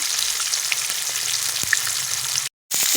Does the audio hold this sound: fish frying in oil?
yes